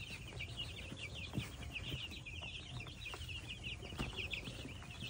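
A flock of broiler chickens clucks in a pen at bedtime, a constant soft chorus of overlapping clucks and chirps heard from a short distance at low volume, with no talking.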